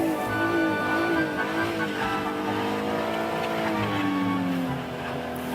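An Acura ZDX spins on pure ice with traction control switched off, its engine droning steadily and rising and falling in pitch, close and loud throughout with no talking.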